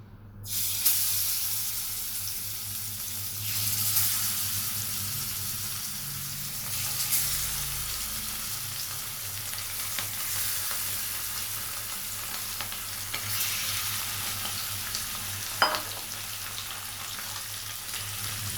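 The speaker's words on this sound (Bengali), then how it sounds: "এবার ম্যারিনেট করে মাছগুলোকে আমি ভেজে নেব" Marinated tilapia fillets fry in about a third of a cup of oil in a pan, giving a loud, continuous bright sizzle with occasional sharp pops and clinks, and no talking.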